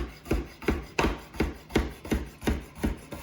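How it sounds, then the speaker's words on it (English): A sharp kitchen knife chops broccoli on a board in an even, quick rhythm, about eight crisp close strikes in a row, each with a short woody thud and rasp. "Give that a good chop"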